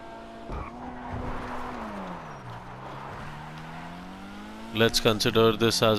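A Weeny Issi rally car in GTA 5 Online drives with a steady engine drone whose pitch sags and rises, a sharp thump near the start, then a burst of loud, choppy engine revving and game sounds at the end.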